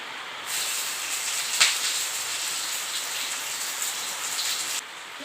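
Half an onion and three green chillies dropped into hot oil in a pan, a loud steady sizzle and hiss that starts abruptly, carries on evenly with a brief spit, then cuts out near the end.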